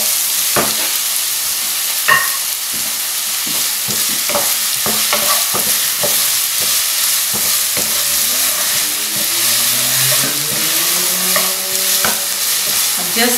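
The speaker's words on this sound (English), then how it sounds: "I'm just going to brown the onions for a few minutes." Onions browning in hot oil with bay leaves, nigella and mustard seeds give a loud, steady sizzle, with repeated stirring scrapes and clicks throughout and no talking.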